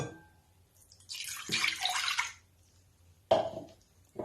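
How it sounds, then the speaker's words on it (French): Lukewarm milk poured into a bowl for bread dough, two short splashing pours separated by a pause, close and fairly quiet, with no talk. "On met le lait tiède,"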